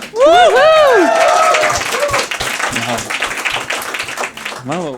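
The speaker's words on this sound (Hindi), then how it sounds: "तालियां." An audience at a stand-up comedy show breaks into applause and claps, partly overlapping with speech and playful vocal sounds from the stage.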